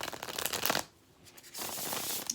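Tarot cards being shuffled up close, two brisk riffling bursts separated by a short pause, soft and papery with no voices.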